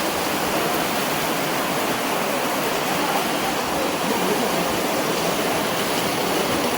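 Floodwater after heavy rain rushes through the market streets of Nakhatrana as a constant, loud, even roar of turbulent water, unbroken from start to finish with no voices.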